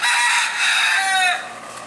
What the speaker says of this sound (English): Roosters are everywhere around here.